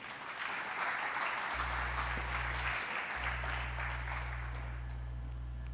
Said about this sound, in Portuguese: Pode aplaudir e ficar de pé